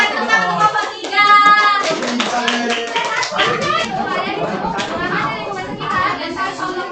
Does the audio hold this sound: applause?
yes